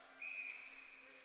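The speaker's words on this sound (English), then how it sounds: "we are going to get a whistle" A referee's whistle sounds during a women's college ice hockey game at an arena, heard as a brief, steady shrill tone over arena ambience with no talk.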